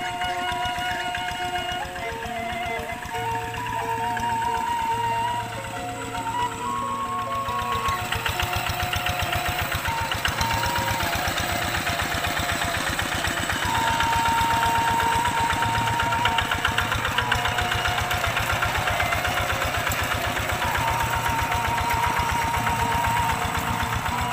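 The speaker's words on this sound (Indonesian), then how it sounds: "proses pembajakan sawah menggunakan traktor" A tractor engine chugs steadily at close range while plowing a rice paddy, a rough droning rumble with rhythmic knocking and no voices.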